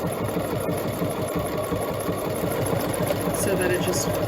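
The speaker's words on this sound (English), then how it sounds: "Remember, we're not pushing or pulling the fabric as we're making buttonholes." A sewing machine stitches a buttonhole with a fast, steady needle rhythm, close and loud. The fabric is only held gently, not pushed or pulled.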